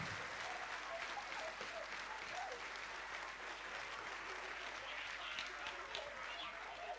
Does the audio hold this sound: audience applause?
yes